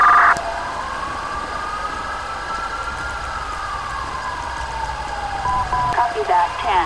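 An ambulance siren in GTA V, responding code 3 in a police patrol game, wails in a long slow rise and fall, loud and steady throughout, with a brief chirp at the start and quicker yelps near the end.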